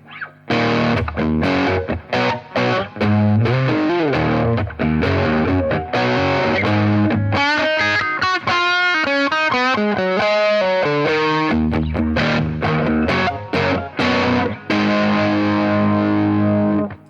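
Electric guitar, a Telecaster, driven through a Zander Circuitry Cranium distortion pedal, playing loud, continuous chords and melodic lead lines with a raw, saturated tone and no talking.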